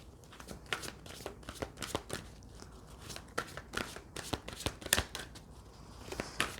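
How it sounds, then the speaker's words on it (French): Tarot cards are dealt and laid over other cards in a quick, uneven series of crisp close snaps and slides, with small pauses between them and no talk. "Je vais maintenant couvrir les cartes avec les autres cartes."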